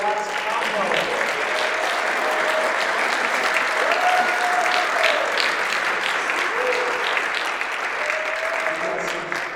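Sustained crowd applause for a live jazz combo at an award dinner, a broad, even wash of clapping over nearly ten seconds, with faint voices and cheers mixed in underneath.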